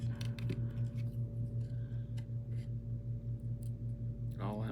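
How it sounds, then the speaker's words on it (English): Snipping of sheet metal with curved and straight scissors on a sprint car kit build, faint intermittent cuts over a loud steady hum, with a voice briefly at the end. "I'm going between curved scissors and straight scissors."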